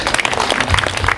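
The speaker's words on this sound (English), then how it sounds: "Another big hand clap for the ladies." Audience applause at a celebration of love, life and legacy, a brief burst of dense clapping filling the whole moment at steady loudness.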